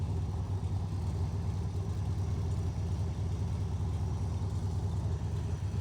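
A 1967 Chevrolet Corvette with a big-block 427 V8, tri-power carburetion and side pipes idles steadily, a deep continuous low rumble with a slightly lumpy pulse, heard up close without any talking.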